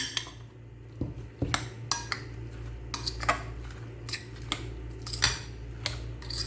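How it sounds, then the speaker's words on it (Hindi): Gram flour being stirred into pakora batter in a bowl, with a steady run of sharp spoon-against-bowl clinks and scrapes at close range over a low background hum, no voices. "अब जो बाकी का बेसन है वो मैं इसके अंदर डाल देती हूँ।"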